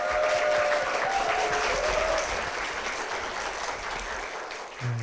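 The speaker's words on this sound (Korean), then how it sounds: "박수로 모시겠습니다" A church congregation claps to welcome a deaconess forward, a full, steady wave of applause that slowly thins toward the end.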